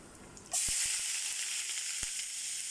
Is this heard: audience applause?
no